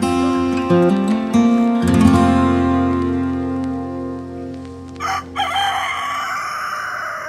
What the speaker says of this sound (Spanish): El gallo marca la mañana, hora de bajar al río.